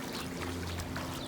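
Irrigation water pours and rushes steadily into a flooded pasture, a close, continuous broadband gush with no pauses.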